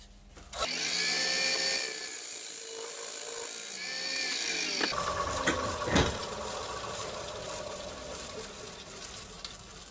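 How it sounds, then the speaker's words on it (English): A pointed carbide cutter bites into a big walnut bowl spinning on a lathe, cutting a groove: a loud scraping, whining cut for a few seconds, a brief pause, a second cut, then the lathe's lower hum with a single knock. "I'm going to put a little groove in, about 20mm in, something like that, with my little pointed carbide cutter"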